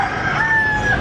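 A rooster at the busy Bagsakan Center market crows once, loud and close, a sustained strained call lasting about a second.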